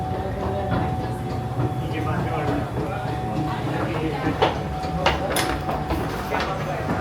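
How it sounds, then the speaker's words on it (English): A New York City subway train riding between Canal Street and Essex fills the car with a steady, loud rumble and rattle, a thin metallic whine running through it and a few sharper clanks toward the end. "we just got off of the train"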